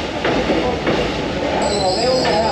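Rumble and rattle of a Vietnamese passenger train under way, heard from aboard a crowded seat car, with a steady low rolling roar, faint squeaks and a high whine entering partway through.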